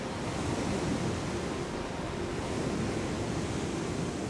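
Sea waves washing onto the shore, a steady, loud rush of surf with wind noise blending into a constant roar.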